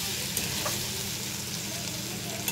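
Diced potatoes and pointed gourd sauté in hot oil in a pan for a simple home-style curry, giving a steady, close, dense sizzle throughout with a few faint clicks from stirring.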